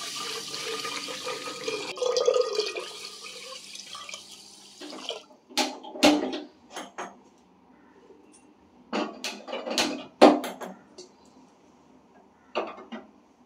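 Rice is washed in water: a steady run of tap water fills the first few seconds, then separate splashes and drips come in irregular bursts, close and fairly quiet.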